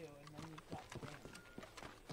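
Horse hooves clip-clopping in Red Dead Redemption 2 Online, a quick uneven run of hoof falls, faint and close, with someone talking over them.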